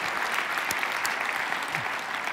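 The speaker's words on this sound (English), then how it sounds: "Let's give Billy a round of applause for that change." Keynote audience applauding in honor of the late TV pitchman Billy, a loud, sustained wash of many hands clapping together, even and unbroken throughout.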